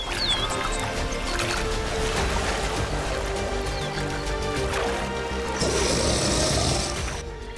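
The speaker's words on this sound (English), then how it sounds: "The splashing sound mingles with the tension that permeates the herd." A wildebeest herd splashes while swimming across a Tanzanian river during the Great Migration, a dense, continuous churning of water mixed with a steady layer of other sound.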